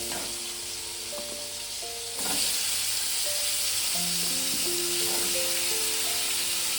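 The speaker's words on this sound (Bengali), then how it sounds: "চিংড়িটা দিয়ে হালকা ভেজে আমি এর মধ্যেই সবজিটা দিয়ে দেবো" Prawns frying in a pan for a Bengali pui mituli dish give a steady sizzle with a hiss that brightens partway through, alongside faint tonal hum and scattered clinks, and no voices.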